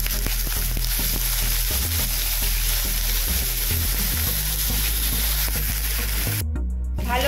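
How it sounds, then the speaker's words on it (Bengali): Potatoes frying in hot oil and ghee with whole cumin, a steady close sizzle with occasional clinks of a spoon or pan. "ভালো করে আমরা আলুগুলোকে ভেজে নেব।"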